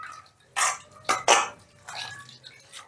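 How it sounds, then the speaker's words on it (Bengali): Washed raw mango pieces squeezed by hand over a plate, giving a few short wet splashes and drips of water in separate bursts, close and fairly loud, with quiet gaps between. "এবারে থালাটা তুলে নিয়ে একটু চিপে নিচ্ছি।"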